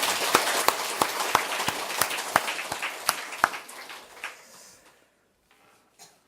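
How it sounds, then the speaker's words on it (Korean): A church congregation claps for its choir, with distinct, fairly close hand claps in a loose rhythm that thin out and stop after about five seconds, leaving near silence with a stray clap. "오늘 우리 찬양대 위해서 박수 한번 위대하십니다."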